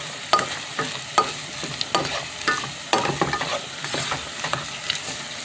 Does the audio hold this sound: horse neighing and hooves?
no